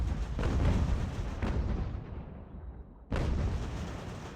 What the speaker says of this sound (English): Ooh, that's an artillery battery out there. It's getting some good shots.